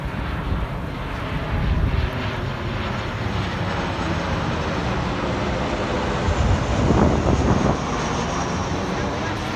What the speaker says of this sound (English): And another plane coming straight. We're right on the flight path of Reagan National Airport.